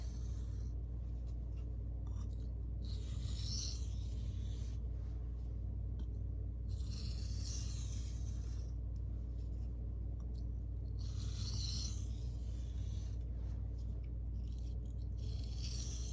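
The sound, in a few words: hand sharpening a CPM 1V knife on a stone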